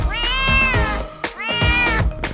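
A kitten gives two drawn-out, rising and falling meows close up, one after another, with a steady background sound bed underneath.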